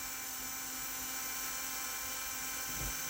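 A Ryobi power drill runs continuously at a steady high-pitched whine while driving screws, close and loud with no talking, rising slightly toward the end.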